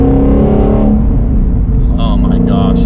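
A 2017 Shelby GT350 engine revs through rev-matched downshifts, a loud, close, continuous roar whose pitch rises and drops with each blip.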